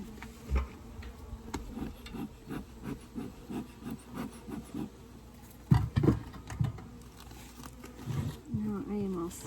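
Honeybees hum around an opened Layens bee hive during a day-227 winterizing inspection, a low buzzing under close handling noises of wooden frames and occasional knocks, with a person speaking intermittently nearby.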